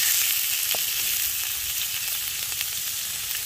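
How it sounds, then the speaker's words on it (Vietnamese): Pork ribs drop into hot oil in a pan with spring onions over an outdoor stream-side fire, producing a loud, dense, continuous sizzle with a few faint clicks, close and steady, with no voices. "Bây giờ mình cho sườn vào"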